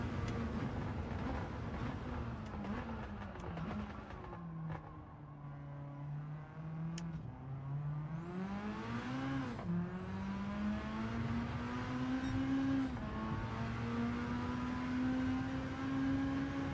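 A race car engine in a time-trial racing game, a continuous droning whine that climbs through the gears with brief dips at each shift, steady and moderately loud throughout.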